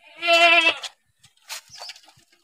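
A goat on a farm lets out one close, loud, wavering bleat, followed by a few quieter scattered rustles and faint calls.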